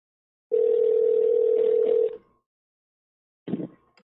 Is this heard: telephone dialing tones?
yes